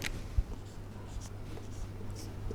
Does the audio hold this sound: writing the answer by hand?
yes